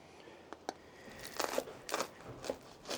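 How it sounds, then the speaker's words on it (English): Crisp crunches from biting into fresh-baked crusty bread on a steak sandwich, a handful of close bites and chewing crackles spread over a few seconds, with no talk. "And you can hear the crunch of the bread."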